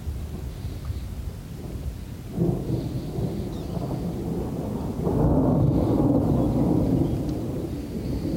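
Thunderstorm with rain heard from a sailboat out near the Isle of Shoals, a steady hiss of rain under low rolling thunder that swells louder midway and stays heavy, with no voices.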